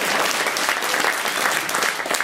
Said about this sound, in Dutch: Applaus voor de man achterin